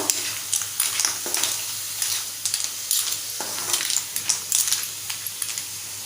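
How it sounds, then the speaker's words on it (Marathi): Clam masala being stirred in a pan: a spoon scrapes and clinks against the metal in irregular strokes over a steady sizzle, fairly close. "चार पाच आमसुलो घेतले ती घालूया त्रिपला घेतलाय आहे ते घालूया छान एकजीव करून घेऊया"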